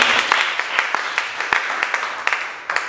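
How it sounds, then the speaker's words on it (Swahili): A church congregation at a Sunday evening service claps in praise, a moderately loud run of uneven, overlapping hand claps that continues throughout. "Shangilie Mungu wetu kwa makofi"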